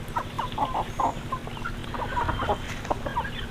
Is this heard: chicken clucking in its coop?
yes